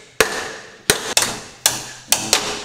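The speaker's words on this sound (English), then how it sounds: "usually like to swing two hammers at each other" Sharp metallic clanks of hammers striking each other, six hits in uneven pairs and singles, close and loud with short ringing decay.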